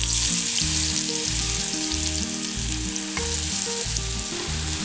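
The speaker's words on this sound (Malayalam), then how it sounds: "ഇതിലേക്ക് നമ്മൾ ചതച്ച് വെച്ചിരിക്കുന്ന ഉള്ളിയും മുളകും കൂടെ ഇട്ട് കൊടുക്കാം." Crushed shallots and chili hit hot oil in a pan for a Kerala prawn and ivy gourd stir fry, giving a loud, continuous close sizzle with light stirring, no voices.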